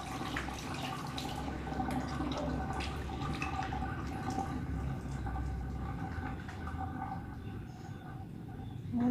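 Running tap water for hand washing during a breech-delivery midwifery practical, a continuous steady splashing and trickling with faint drips, fairly quiet throughout.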